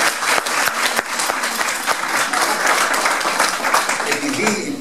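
Audience applause in a lecture hall, a dense sustained burst of clapping heard alone without talk.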